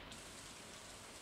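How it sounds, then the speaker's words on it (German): Rain in the video game Stardew Valley, a faint, steady hiss of falling rain with no other sound. "Es regnet."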